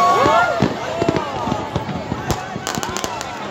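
New Year fireworks over Icaraí beach in Brazil, with repeated sharp bangs and crackling bursts at irregular intervals under a continuous crowd murmur, plus whistling rising streaks early on; people talk throughout.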